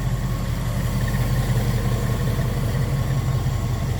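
A Ford flathead V8 with Stromberg carburetors and a Navarro intake sits idling in a 1950 Mercury street rod coupe, giving a steady, smooth, low rumble that holds even throughout.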